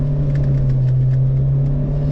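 Dune race car engine held on the accelerator, a loud steady droning hum with a strong low tone and rumbling under it, close and continuous with no talk.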